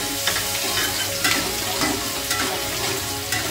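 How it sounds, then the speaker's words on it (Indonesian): Ground spice paste sautés in oil over medium heat, a continuous loud sizzle with regular scraping stirs of a utensil against the pan, close up and with no talk. "Kita tumis sampai harum."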